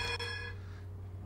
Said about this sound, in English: Wish I had a louder horn than that.